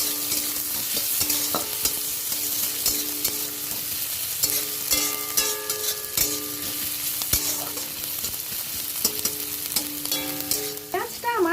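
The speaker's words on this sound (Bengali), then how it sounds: "আমি পেঁয়াজ কুচি দিয়ে দিলাম। পেঁয়াজটা একটু ভেজে নেব নেড়ে চেড়ে" Chopped onions sizzle in hot oil for a bitter gourd and pumpkin dish, a spoon stirring and scraping the pan repeatedly over the steady close frying hiss, with no voices.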